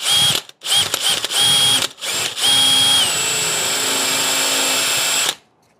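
A power drill whirs in several short bursts, then runs in one long steady spin before stopping abruptly, drilling into the carburetor of a 2007 Polaris Sportsman 450 with a crank no-start fault.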